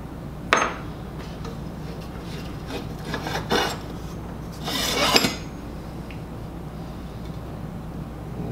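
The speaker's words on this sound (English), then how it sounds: "Pretty clean cut on the angle iron." Steel angle iron is cut with a saw in a few short rasping strokes, separate gritty scrapes spaced apart over a quiet background hum, fairly close and moderately loud.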